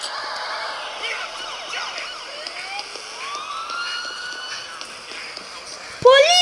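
A wailing police siren in the video game Gangstar Vegas, sweeping up and down steadily with a sharp burst of noise near the end as a voice shouts over it.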